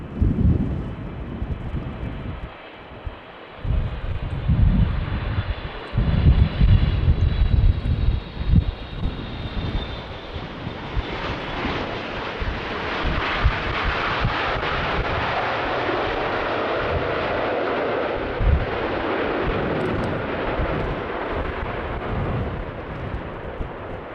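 A jet airliner lands on runway 27 at Amsterdam Schiphol in gusty wind. It makes a loud, sustained engine roar and rumble with heavy wind buffeting on the microphone, steady and broad throughout.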